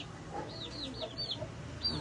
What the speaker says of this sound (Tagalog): Sosyal man awon manok ba?